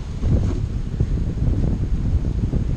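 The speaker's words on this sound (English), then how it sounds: "Oh, there goes the wind." Wind gusts buffet a microphone outdoors beside a beehive, a steady low rumbling roar with no voices.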